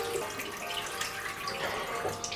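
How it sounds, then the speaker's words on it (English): Water splashing at a bathroom sink as a face is rinsed with cold water, a steady close running and dripping wash with small irregular splashes, no talk. "So I'm going to go ahead and rinse with cold water."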